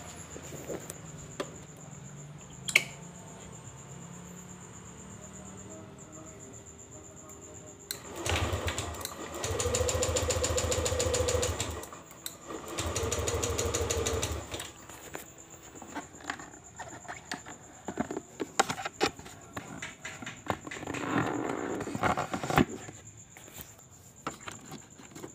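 A Yamaha Lexi scooter engine that won't hold idle fires up and runs in two loud bursts of revving, then sputters and pops irregularly, with faint ambient buzz underneath.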